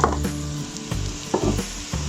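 Spices sizzle and roast in a pan over lowered heat, a steady close frying hiss broken by several soft stirring scrapes at regular intervals, with no talking.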